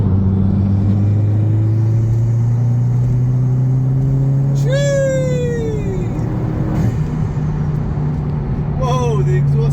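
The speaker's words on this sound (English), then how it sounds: "Whoa, the exhaust is popping and everything." Vauxhall Corsa VXR Nurburgring Edition with stock catalytic converters running under a loud, steady engine drone, with a rising rev sweep midway and a few sharp exhaust crackles and pops, while a person talks over it.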